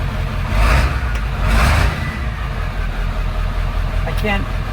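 A restored Ford F250 with a 7.3 diesel runs steadily at idle with a couple of brief revs, a loud, close rumble that continues throughout.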